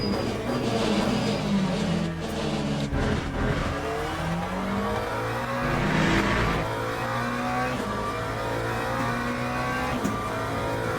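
A McLaren race car in the Le Mans Ultimate racing game drives with a loud, continuous engine note, its revs repeatedly climbing and falling through gear changes as the car brakes and accelerates.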